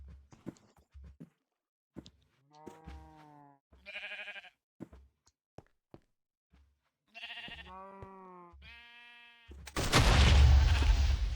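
Sheep bleating in a prop hunt video game, several distinct bleats spaced apart among footstep-like thumps, ending in a loud burst of explosion-like noise.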